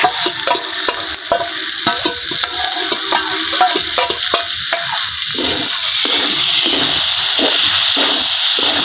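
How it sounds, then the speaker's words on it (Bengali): Meat and potatoes stir-fry together in one pan, a continuous close sizzle broken by frequent rhythmic scraping and clattering strokes of a spatula, loud and without speech. "তো মাংস আর আলু একসাথে ভাজি করবা?"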